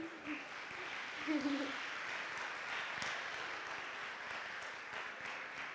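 Quiet, distant applause from the audience at a university thesis competition greets the winner, a soft continuous patter of clapping with a brief murmur of voices near the start.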